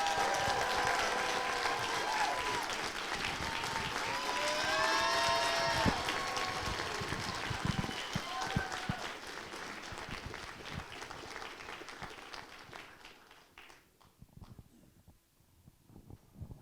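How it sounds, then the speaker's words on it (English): A comic expo crowd applauds and cheers for actor Ron Perlman at a panel in Cincinnati, sustained loud clapping with whoops and shouts, gradually thinning out and dropping to scattered claps toward the end. "Please give a huge round of applause for Ron Perlman."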